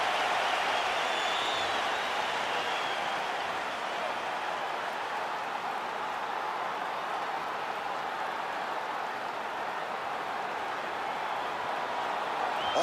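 A capacity arena crowd roars steadily ahead of a featherweight main event bout featuring Max Holloway in EA Sports UFC 5, a dense, continuous wash of cheering and applause holding at an even level throughout.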